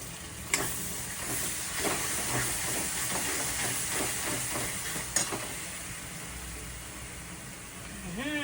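Prepared gravy for a home-style chicken curry hits a hot pan, producing a steady close hiss and sizzle throughout with a few sharp clinks of a spoon, no talking.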